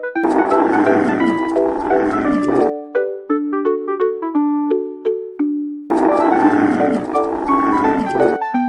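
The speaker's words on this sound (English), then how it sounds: "Camel. Con lạc đà." A camel gives two long, rough, growling groans, loud and close, with a short stretch of chiming music between them.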